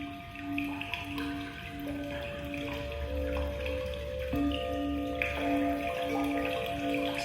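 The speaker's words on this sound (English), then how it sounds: "So it's a nice, soothing bell ring." A soothing bell used to end a wall yin yoga session rings out softly several times in a steady rhythm, its sustained tones lingering over a faint watery background hiss, with no talking.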